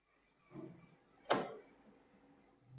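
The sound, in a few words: heavy aluminum and wood phantom sliding door moving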